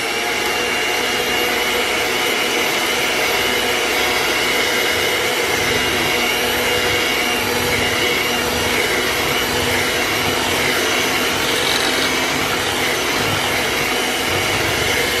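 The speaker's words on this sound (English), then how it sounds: "now I'm going to come with my handheld mixer, and we're going to put it on low settings" A handheld mixer on its low setting beats tres leches batter, giving a steady, close motor whir that runs unbroken at even loudness with no voices.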